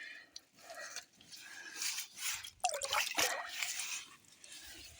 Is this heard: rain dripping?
yes